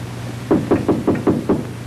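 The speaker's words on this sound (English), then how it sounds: "I knocked on the door and you invited me in." Six steady knocks on an apartment door in a 1940 comedy film, evenly spaced and fairly close, each a sharp hollow rap, with no voices over them.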